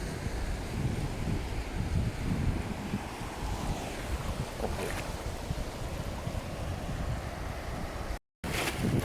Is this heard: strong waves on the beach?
yes